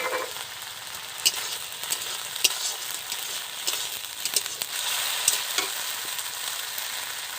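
Tomatoes added to a small fish curry frying in a pan give off a continuous close sizzle with occasional scrapes and clinks of stirring.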